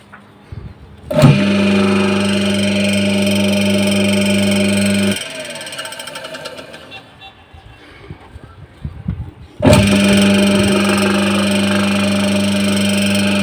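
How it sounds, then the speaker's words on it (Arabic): Rebuilt washing machine motor with new bearings runs with a loud, steady hum, cuts out for a few seconds while people talk, then starts up again just as strongly. "الموتور شغال زي الفل"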